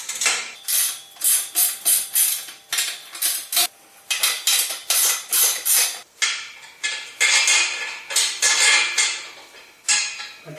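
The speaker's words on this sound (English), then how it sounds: "You need a 1/2-inch socket to tighten the bolts" A ratchet with a 1/2-inch socket tightens the bolts on a Shelter Logic 90403 heavy-duty firewood rack, an 8-foot unit, in rapid, close, bright clicking bursts that repeat steadily with brief pauses, without talk.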